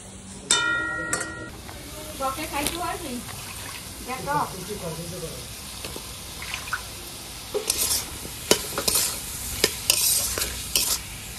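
Spice masala being stirred and fried with mango in a pan for a snakehead fish curry, soft scraping and sizzling with a few sharper clinks toward the end, while a person speaks at intervals.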